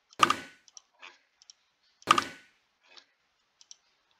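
A computer mouse clicks in a quiet room: two sharp, distinct clicks about two seconds apart, each trailed by faint small ticks and taps.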